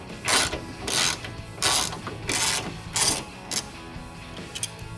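A ratchet loosens headlight bolts on a Toyota Tacoma in about six quick rhythmic bursts of clicking, close and fairly loud, with a few lighter clicks trailing off at the end.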